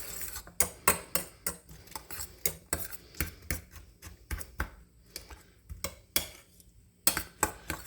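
A utensil beats eggs in a bowl for scrambled eggs with green gram, giving rapid, close clinking taps in an uneven rhythm with brief pauses and no talk.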